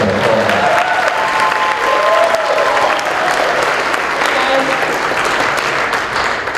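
A seminar audience claps loudly and steadily, dense applause filling the room at close range from start to finish, with a few faint voices underneath.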